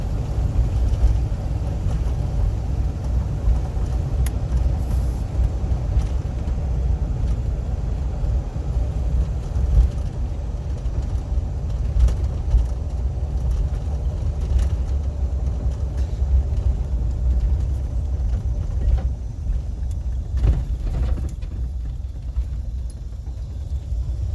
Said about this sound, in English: we're going to drive down in there, and I'll show you that bridge up close as much as I can